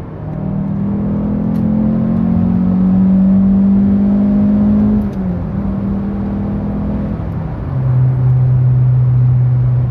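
A Citroën Xsara VTS Phase 2 with an XU engine pulls hard under acceleration, its steady engine drone climbing in pitch through two gear changes, heard from inside the car with no talk.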